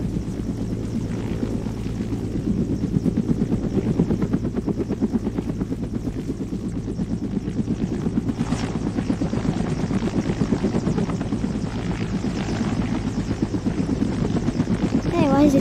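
A helicopter runs with its engines going, a dense steady rotor throb and whine filling the whole stretch, loud and close, with voices talking over it.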